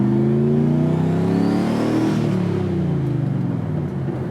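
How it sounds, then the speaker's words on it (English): Turbocharged car engine revving loudly and close, a rising and falling harmonic drone with a faint turbo whine sweeping up, sustained for several seconds without talk. "Do you miss turbo noises?"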